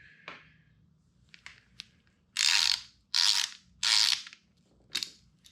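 A tool ratchets loose the top bolts of a Marzocchi Bomber Air suspension fork during disassembly: three loud, close bursts of clicking pawl, with faint small clicks and taps between them.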